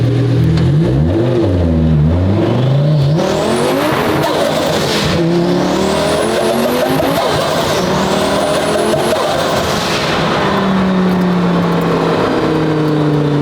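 A one-of-one twin-turbo Lamborghini V10 supercar accelerates hard, its loud, close engine note climbing and dropping through several gear changes, with tire noise underneath.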